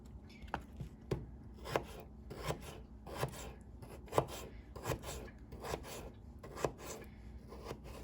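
A knife cuts bell peppers into not-too-thick slices on a cutting board, giving a steady series of sharp, close chopping knocks about every half second, with no talking.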